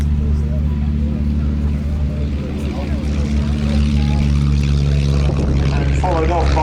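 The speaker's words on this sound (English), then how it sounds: "my own super cub with its 150 horsepower engine, the ideal tow ship" A Super Cub light aircraft with a 150 horsepower engine, serving as a glider tow ship at an airshow, drones steadily with a low propeller hum throughout, mixed with a commentator's voice over the loudspeaker.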